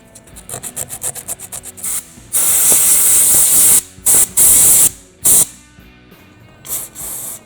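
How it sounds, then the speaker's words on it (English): A few short spray bursts follow a run of quick rhythmic pulses, then a long loud hiss of carburetor cleaner aerosol onto a rag and several more brief sprays, close by. "I'm going to put a little carb spray on a rag."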